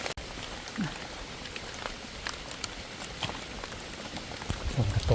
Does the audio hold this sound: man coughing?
no